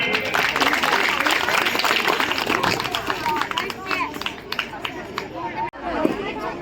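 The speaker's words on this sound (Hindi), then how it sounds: "एक बार जोरदार तालियां" A crowd at an outdoor school event claps loudly, dense applause that fades after a few seconds into scattered claps with chatter and voices around it.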